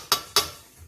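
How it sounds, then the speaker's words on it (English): Two quick metallic clicks of a whisk against a pot while agar-agar powder is worked into cooking strawberry jam, sharp and close, with a quiet pause between them. "Making sure that I whisk it in well so that it incorporates fully."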